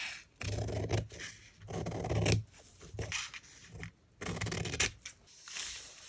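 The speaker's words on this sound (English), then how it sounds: "Okay, cut this edge more from this side." Scissors snipping along the edge of paper for an ephemera folio, several close bursts of crisp cutting separated by short pauses, no talk.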